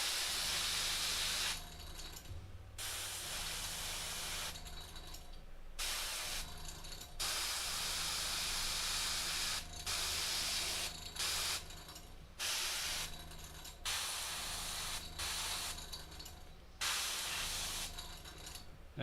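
An airbrush sprays paint onto a painted miniature figure of Ahriman, giving soft, close hissing bursts of a second or two separated by brief pauses, repeated about a dozen times with no voices.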